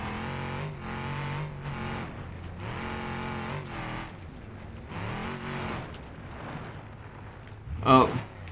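A D Series truck rolls over on desert trails in BeamNG.Drive, a sudden loud burst of crashing impact near the end, following a stretch of steady engine drone with changing gears and no talk.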